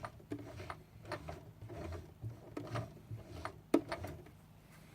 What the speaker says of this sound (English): you could even do this one by hand using the hand lever right here to take those first couple of stitches